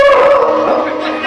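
A dog gives a loud, close, drawn-out howling whine, one continuous wavering cry for just over a second.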